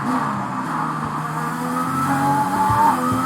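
In the racing game Driver Career 2020, a car skids and nearly spins out, its engine holding a steady drone beneath a thin, rising tire squeal with no talking.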